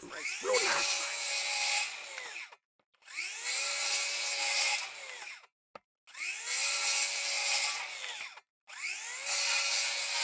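A Flex 24V rear handle circular saw rips through wood in four separate cuts. Each is a loud, close, sustained whine lasting about two seconds, with brief silent pauses between them.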